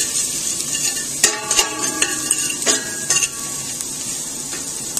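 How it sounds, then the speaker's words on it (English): Garlic sizzles in a hot cooking pot while a utensil stirs it briskly, with repeated scraping and clinking against the metal over constant frying hiss, close and clear. "Just stir around pretty briskly."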